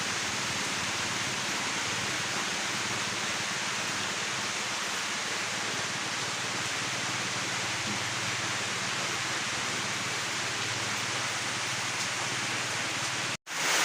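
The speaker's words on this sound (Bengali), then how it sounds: "বাইরে প্রচুর বৃষ্টি হইতেছে" Heavy rain falls outside as a dense, even hiss that continues at the same level for the whole stretch before stopping suddenly at the end, with no voices.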